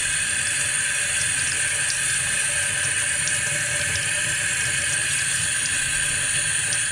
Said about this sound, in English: So now we'll turn on some low water and we'll go, this was the outside, so we're going to go from the inside out and rinse it off.